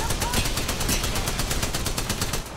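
Rapid automatic gunfire in Apex Legends rattles in a steady, fast stream of loud shots that continues almost throughout the brief burst.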